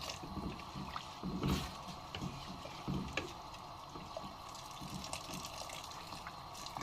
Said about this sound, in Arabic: كل كوبايه رز عليها كوبايه ميه سخنه بالشكل ده